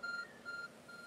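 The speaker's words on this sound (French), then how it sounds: "Ah, le téléphone Arceus. Il y a quelque chose qui émet du son et de la lumière par là-bas." The Arceus phone in Pokémon Legends: Arceus beeping twice, two steady electronic tones in a row, close and clear, with a softer third tone starting, no voices.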